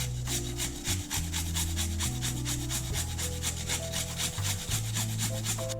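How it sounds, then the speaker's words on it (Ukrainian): Rhythmic rasping strokes of ginger root being grated, quick and regular back-and-forth scraping, close up, over a low steady hum. "І натру десь чайну ложечку кореню імбиря."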